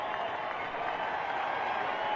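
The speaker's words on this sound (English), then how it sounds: "The crowd is up." Baseball stadium crowd at a Houston Astros vs. Texas Rangers game, a dense, sustained roar of cheering and clapping that fills the whole moment, loud and continuous.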